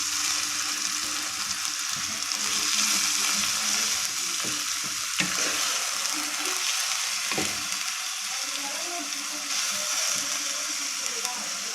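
Minced beef keema sizzles and crackles steadily in a pan, a dense continuous frying hiss with occasional stirring clicks and scrapes, close and fairly loud, no voices.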